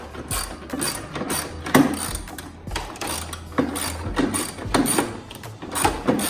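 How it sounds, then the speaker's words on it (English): A socket wrench ratchet fitted with a 12 mm socket removes bolts on a John Deere D105 riding mower, giving repeated bursts of close, crisp clicking in an uneven rhythm. "So all 4 of those bolts need to be removed. And I'm using 12 millimeter socket."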